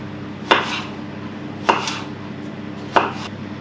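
A knife chopping potatoes into chips on a board: three sharp, evenly spaced cuts about a second apart, close and crisp over a quiet background.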